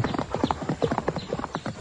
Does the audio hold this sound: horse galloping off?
yes